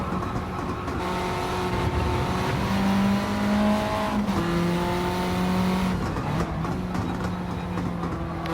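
Race cars lap Laguna Seca in Gran Turismo 7, engines whining and shifting pitch as they accelerate and brake, with several cars droning together at close range and no talk.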